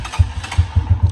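A motorcycle engine runs close by with a steady, uneven low throb that pulses roughly every fifth of a second, heard alone without talk.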